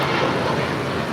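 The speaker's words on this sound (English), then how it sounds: "This is United Airlines 2365 taking off to Houston Intercontinental on a MAX 8." United Airlines Boeing 737 MAX 8 taking off from LAX, bound for Houston: a steady, dense broadband jet roar that holds at constant loudness throughout, with no voices.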